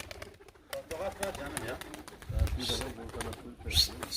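A tumbler pigeon coos a few times amid steady, close conversation, its low calls partly masked by the voices.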